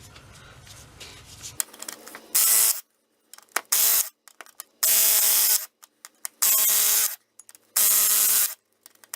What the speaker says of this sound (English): now I'm just going to try and impact off the flywheel.